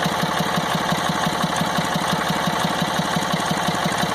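A tractor that mostly sits unused, its valves sticking, runs at a steady, rough idle, loud and close, with a fast regular chugging pulse under a broad mechanical hum and no talking.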